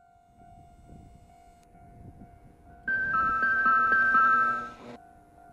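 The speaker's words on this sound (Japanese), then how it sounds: "4番乗り場に名古屋行き普通電車、名古屋行きの普通電車が2両編成で参ります" At Kintetsu Kanie Station, a two-car local train bound for Nagoya sounds a sustained horn blast of about two seconds over a quiet background rumble and a faint steady tone.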